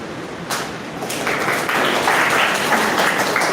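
A crowd at a school Shark Tank-style kids' event breaks into applause, a dense, sustained wash of clapping that swells after the first second and holds steady, with no voices over it.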